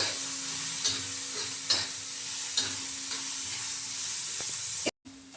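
Onions and bitter gourd frying on a tava, a steady close sizzle with a few periodic stirring knocks and a brief cut near the end, no voices.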